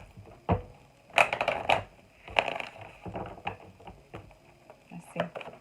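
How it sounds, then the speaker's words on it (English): Tarot cards riffle and slap together in short, close bursts, with quiet pauses between the shuffles. "Let's get one more shuffle."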